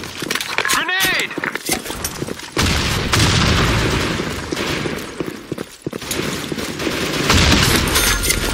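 Grenade blasts and gunfire in the shooter game Blackshot crash in repeated bursts over a dense, loud battle din, with voiced game callouts breaking in now and then.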